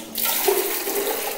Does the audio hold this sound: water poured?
yes